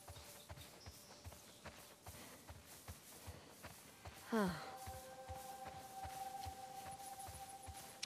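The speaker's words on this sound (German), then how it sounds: "Ein Pferd. Wir haben Besuch." Horse hooves clip-clop at a steady walking pace in The Last of Us Part 2, a regular patter of soft hoofbeats running throughout over a low ambient hum and faint game tones.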